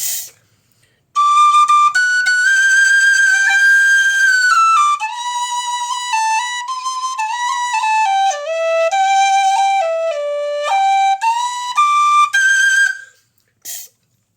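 A Busker soprano D tin whistle plays a bright, continuous melody of clear sustained notes and quick runs, loud and close, alone without any voices.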